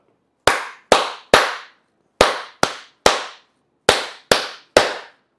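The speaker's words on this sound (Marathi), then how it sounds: "अशा टाळ्या जर आपण दिवसातून मला वाटतं 10 वेळा 3-3 अशा वाजवल्या" Hands clap sharply in three sets of three, each burst of claps quick and evenly spaced, loud and close with brief silent gaps between the groups.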